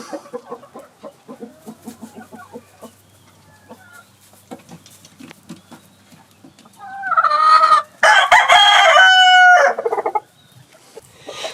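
Gamefowl chickens, including Asil birds, cluck softly and scratch about nearby, then break into a loud run of close crowing with overlapping calls that fades back to quieter clucking.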